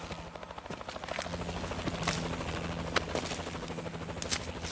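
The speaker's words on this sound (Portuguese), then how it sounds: "Helicóptero dando a volta." A helicopter circles in the Call of Duty: Advanced Warfare game, its steady rotor chop throbbing continuously at moderate loudness, with scattered game effects layered over the drone.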